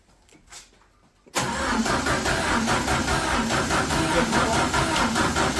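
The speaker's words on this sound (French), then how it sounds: "Vas-y, mais redémarre et essaie de la retenir un peu." A Citroën C15, modified to 350 hp, is cranked and restarted, its engine catching abruptly after a quiet moment and settling into a loud, steady running rumble close by.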